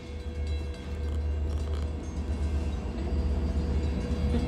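A train rumbles steadily with a low, continuous roar and rattling, as if heard from inside a railway carriage, with no voices.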